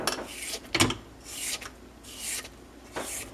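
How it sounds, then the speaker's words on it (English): Spatula scrapes the sides of a mixing bowl of gingerbread batter, several close, soft rasping strokes with a sharper knock near the start and quiet gaps between. "I'm gonna scrape down the sides of the bowl before we start adding flour."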